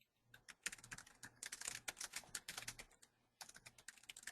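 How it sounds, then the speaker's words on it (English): Keyboard typing heard through an unmuted phone on a conference call: quick, irregular clicking keystrokes in bursts with brief pauses, fairly faint and thin, and no one talking over it. "And Heather, I think your phone is unmuted, so we can hear typing"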